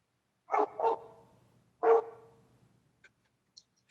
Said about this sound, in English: Not my dog.